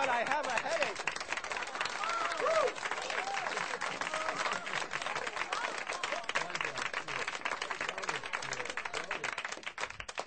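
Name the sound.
audience applause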